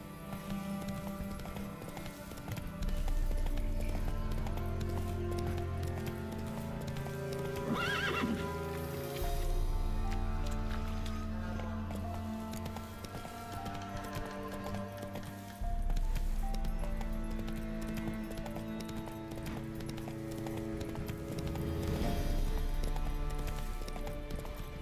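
Roach, a horse in The Witcher 3 video game, whinnies and gallops with steady clip-clop hoofbeats over a loud continuous game music score, with a prominent neigh rising midway and another near the end.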